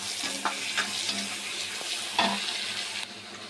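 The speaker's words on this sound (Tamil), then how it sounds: "தக்காளி போட்டு நல்லா வதக்கிக்கலாம்" Onions and tomatoes sautéing in a pan for a goat liver fry, a steady sizzle with a few sharp scrapes and stirs, close and moderately loud, no one talking.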